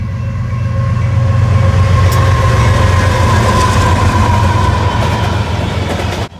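A BNSF General Electric ES44AC freight locomotive, built in 2003, rolls past on the Staples subdivision with a steady, loud low rumble of engine and cars throughout and a faint clatter over the rails, easing off only at the very end.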